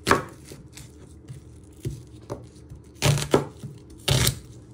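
Knife chopping onion into chunks on a cutting board for a chilli pork casserole, a series of sharp, close knocks at an uneven pace, with a few louder, doubled strikes toward the end.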